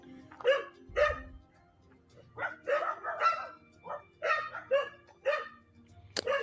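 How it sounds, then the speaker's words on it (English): Dogs bark repeatedly at a moderate distance, a steady run of yaps and woofs with short gaps, against faint outdoor background noise. "that's all I'm hearing right now is dogs barking"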